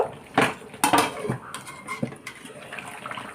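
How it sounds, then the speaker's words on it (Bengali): Metal clanks and knocks as a lid is set onto a cooking pot of chicken malai curry, several sharp, close hits in quick succession followed by quieter rattling. "এবার ঢাকা দিয়ে দেব"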